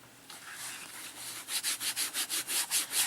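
Bare hands rub paint into a canvas, soft scuffing strokes that settle into a regular back-and-forth rhythm of about nine close, distinct swishes.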